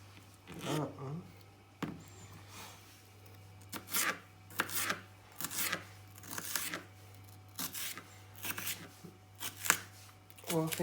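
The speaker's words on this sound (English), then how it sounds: "Well, I think that's enough pepper slicing for you guys now." Peppers are sliced with a knife on a plastic chopping board: a run of crisp, close cutting strokes in an uneven rhythm, with a voice briefly audible at the start and end.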